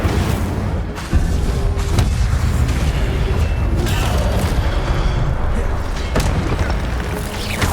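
Incendio fire spell cast repeatedly in Hogwarts Legacy, heard as loud booming bursts and whooshes over a dense, continuous game soundscape with sharp blasts near one and six seconds.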